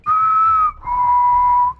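Two sustained whistled notes, the second slightly lower, clear and fairly loud with no talking.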